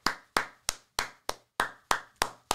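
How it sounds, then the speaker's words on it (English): A single pair of hands claps close to the microphone, about nine sharp claps in a steady, slightly uneven rhythm with short gaps of silence between them. "Clap it up, ladies and gentlemen, in the chat."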